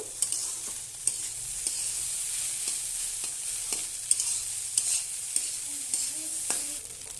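Poha with salt and turmeric is stirred in a hot pan, a soft steady sizzle under a regular series of sharp spoon scrapes and taps against the pan, close and unaccompanied by talk.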